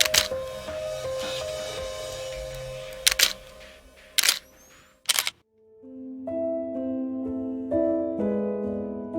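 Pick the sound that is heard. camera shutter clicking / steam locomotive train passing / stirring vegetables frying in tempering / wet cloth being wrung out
camera shutter clicking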